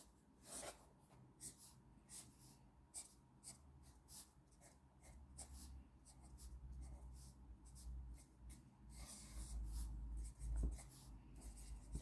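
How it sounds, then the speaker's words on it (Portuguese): Pen scratching across paper while sketching a small body figure, a run of short quick strokes with brief pauses, faint and close, with occasional soft breaths. "Vou desenhar um corpinho."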